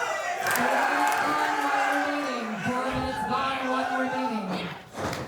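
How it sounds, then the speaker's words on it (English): A pro wrestling crowd in Las Vegas roars continuously under a commentator's excited talk, a dense, sustained wall of cheering that dips briefly near the end. "Every time she kicks out of one, the crowd goes crazy."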